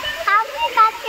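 Rushing water from Chaulabhaja waterfall in Mayurbhanj forms a steady hiss beneath nearby voices talking throughout.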